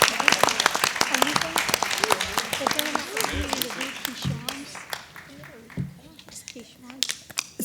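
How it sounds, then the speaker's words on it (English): Applause from an audience at a board election candidates' forum, a dense patter of clapping with voices and cheering mixed in, gradually thinning out toward the end. "I think this deserves a round of applause for the candidates"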